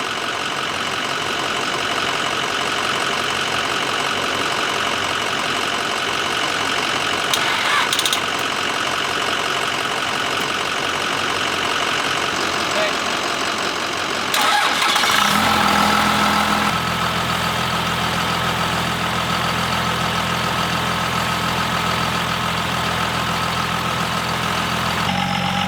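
A diesel pickup truck engine idles with a heavy, rough clatter, then partway through the sound shifts to a deeper, louder, steady rumble as the engine starts or changes, running on without voices.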